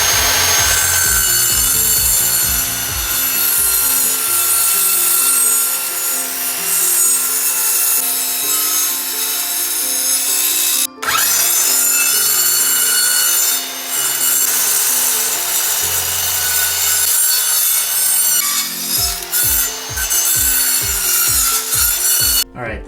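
Circular saw set to a 1.75-inch depth making repeated cuts in wood for a planter stand, loud and continuous, the blade revving up and biting through the boards in a long run with a short break midway and choppy cuts at the end.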